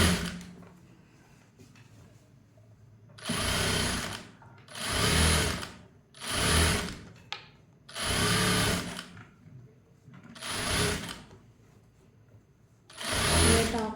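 A sewing machine top-stitching a blouse runs in six or seven steady bursts of a second or so each, separated by short pauses, close and clear with no talking.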